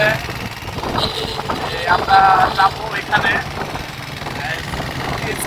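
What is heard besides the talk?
old battered motorcycle engine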